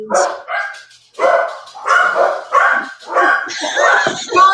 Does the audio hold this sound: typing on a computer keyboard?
no